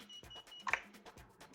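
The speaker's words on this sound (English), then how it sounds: "It doesn't have to be armed for you to turn the buzzer on." A lost-model alarm buzzer on a Genius 215 drone gives one short, sharp beep partway through, over quiet background noise.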